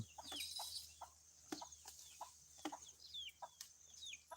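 Chickens roaming a village home among elephant-keeping houses in Surin cluck and squawk in short, repeated bursts with brief gaps between them, fairly close, with no one talking.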